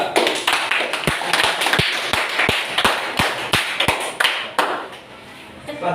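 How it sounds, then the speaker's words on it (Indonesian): Classroom group claps for a student group after their presentation, a brisk run of sharp hand claps and taps in uneven rhythm, close and moderately loud, thinning out toward the end. "tepuk tangan untuk kelompok 3"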